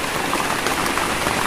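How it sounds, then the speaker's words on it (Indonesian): Heavy rain pours at night onto a shelter above a river, a dense, even hiss of drops drumming steadily and close with no break. "Hujan datang, saudaraku, ha."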